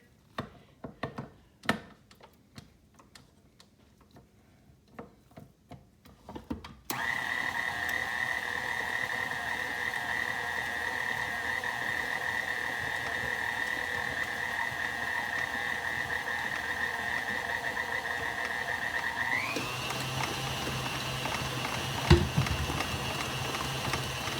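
After a few scattered clicks and knocks, a stand mixer fitted with a heavy-duty beater starts up to mix ground turkey. Its motor hums and whines steadily up close, then the pitch shifts briefly near the end.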